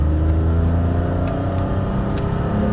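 A car engine revs higher on a race circuit during a track ride, a dense steady roar with layered harmonics filling the cabin, no talking.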